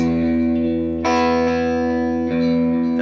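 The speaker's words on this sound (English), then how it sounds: "you can hear that there's some delay in there and some reverb" Sustained electric guitar chords ring out, washed in delay and reverb, with fresh strums entering about a third of the way in and again near the end.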